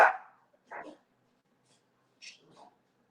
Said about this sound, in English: Now you want to bark.